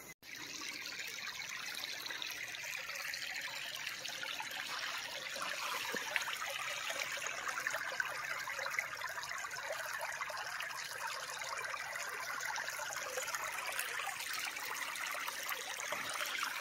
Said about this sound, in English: But creek's flowing good.